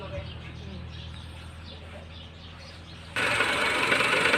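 A Honda four-cylinder engine idles after starting during an ignition coil and spark plug check, giving a steady low hum with harmonics before a sudden jump to louder, broader running noise near the end.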